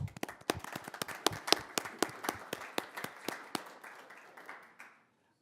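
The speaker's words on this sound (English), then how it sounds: "give him a big thank you and an additional round of applause" A small room at a city council meeting claps for a retiring council member, with distinct, fairly sparse hand claps that thin out and stop after about five seconds, leaving quiet.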